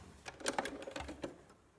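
Sewing machine stitching a strap for a bralette made from an upcycled T-shirt, programmed without backstitching: a short, quiet run of rapid mechanical needle clatter, a few uneven bursts fading out at the end.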